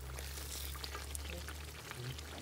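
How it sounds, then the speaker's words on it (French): Water being poured into a pot of hot fried fish sauce, a continuous hissing, splashing pour with faint sizzle, fairly quiet and steady. "Maintenant, je vais mettre de l'eau dedans."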